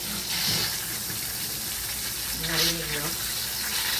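Tap water gushes over a hot pressure cooker to cool it, a steady rush with a brief hissing surge partway through, while a voice speaks briefly over the water.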